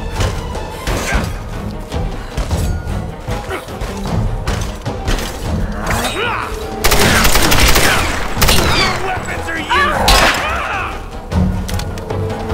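Machine gun fire in the 2013 Tomb Raider video game rattles loudly in dense bursts, mixed with crashes and impacts, while a person talks over the action.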